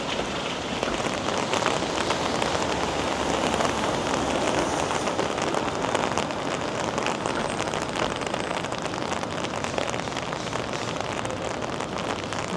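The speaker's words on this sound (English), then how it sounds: "maybe we'll end the video with a downpour as we began the video." Heavy downpour pours steadily onto pavement during a walk through downtown Toronto, a dense, constant hiss of rain close around the microphone with no pauses for the whole stretch.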